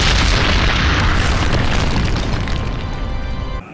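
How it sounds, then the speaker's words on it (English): A colossus monument in the video game Shadow of the Colossus blows apart into rubble with a loud, sustained, rumbling explosion that fades slightly toward the end. "the Colossus monument explodes into rubble"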